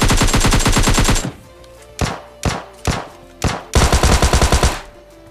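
Automatic gunfire in the PUBG Mobile Lite video game: a loud rapid burst, then four single heavy shots spaced apart, and another rapid burst near the end, with no talking.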